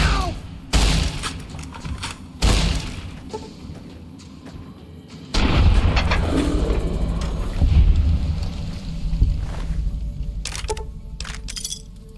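Shotgun blasts in Fallout: New Vegas, several loud sharp booming shots at irregular intervals, followed by a longer stretch of dense gunfire and crackling noise.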